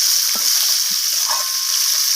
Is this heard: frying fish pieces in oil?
yes